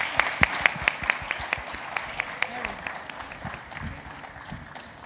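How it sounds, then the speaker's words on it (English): Applause at a Bitcoin conference in Africa, a scattering of sharp hand claps at the start that thin out into a looser patter under a murmuring room. "Another round of applause."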